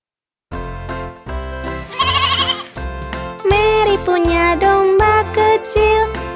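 A little cartoon lamb bleats several times, loud and close, over bright children's song music with a steady beat.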